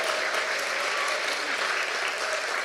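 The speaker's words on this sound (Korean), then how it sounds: "큰 박수 한번 주세요." Audience at a seminar breaking into sustained applause, dense steady clapping from many hands filling the room throughout.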